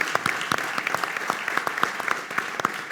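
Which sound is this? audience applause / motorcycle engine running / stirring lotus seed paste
audience applause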